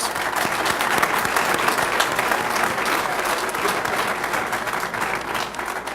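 A crowd at a police department awards luncheon bursts into dense, sustained applause that stays loud and even throughout, with no talking heard above it.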